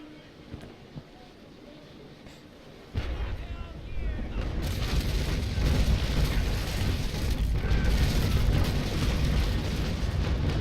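Ship cannon broadside fire in the naval combat game Naval Action: after a quieter stretch, a dense, sustained rolling barrage of booming cannon shots erupts and continues loudly to the end.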